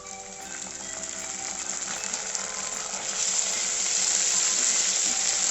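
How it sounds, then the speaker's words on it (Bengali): Garlic and ginger paste fry in oil over a low gas flame for a jackfruit and prawn dish, a continuous close sizzle that grows gradually louder and denser, with faint light clinks and no talking. "রসুনটা ভাজা ভাজা হয়ে গেছে, এবার আমি আদা বাটাটা দেব।"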